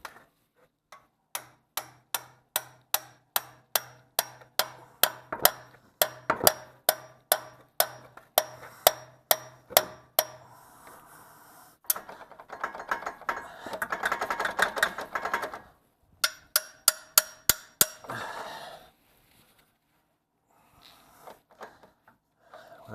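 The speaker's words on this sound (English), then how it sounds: "I'm just gonna put this baby right in here and hit it with a sledgehammer from the bottom." A sledgehammer strikes a CV axle removal tool on a Toyota Camry, sharp metallic clanks repeating in a steady run of about two dozen blows, then a pause and another burst of hits, close and with no talk.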